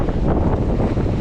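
Steady, rough wind buffets the microphone outdoors while fishing in windy conditions, a continuous close roar with no talk.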